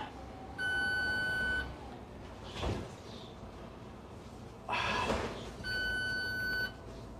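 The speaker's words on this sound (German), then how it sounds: "Der piepst jetzt, weil wir jetzt ja ohne Fahrerkarte, nicht Fahrerkarte, doch Fahrerkarte nennt sich das so, ohne den fahren." A bus tachograph sounds its warning for driving without a driver card: two steady, roughly one-second tonal beeps several seconds apart over engine and road rumble, with duller thuds between them.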